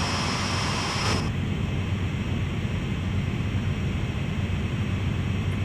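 A CSX heavy-haul diesel locomotive in Train Sim World holds high RPM while climbing a steep hill, giving a steady, loud, unbroken engine roar and broadband rumble that continues throughout.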